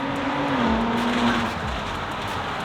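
Tuned Ford Explorer and Audi SQ5 drag racing at a rally event, a loud continuous engine roar with a rising then settling pitch, close and steady with no talk over it.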